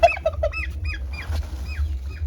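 A turkey calls nearby in a series of short, nasal, honking clucks, some quick and clustered and others drawn out, over a low steady rumble of background noise.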